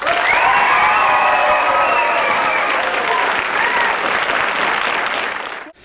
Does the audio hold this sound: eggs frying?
no